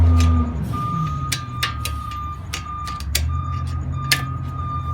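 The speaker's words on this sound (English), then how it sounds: "My luck, the trashmans are here making noises" A garbage truck backs up outdoors with a steady series of high reversing beeps over its low rumbling diesel engine, heard nearby and continuous, with a few sharp clanks mixed in.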